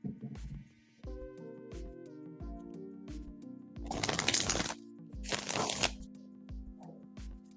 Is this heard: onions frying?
no